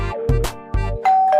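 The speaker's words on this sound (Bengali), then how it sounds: "এতবার কলিং বেল দিচ্ছে কেন?" An indoor doorbell rings repeatedly, loud and close, with several quick ding-dong chimes pressed in succession and no voices.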